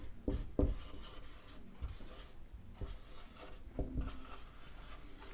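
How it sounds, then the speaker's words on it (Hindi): Marker or chalk scratching across a board during a lecture on DC machine torque, a series of short, uneven strokes and scrapes with brief pauses between words, close and clear with no voice over it. "मैं लिख देता हूँ टॉर्क का डेफिनेशन।"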